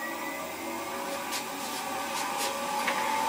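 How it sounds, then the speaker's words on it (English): Wood lathe turning fast at about 1200 RPM during friction polishing, a steady broadband whir with a faint tonal hum, continuous and even throughout with a few soft brushing swells. "Now have the lathe spinning quite fast."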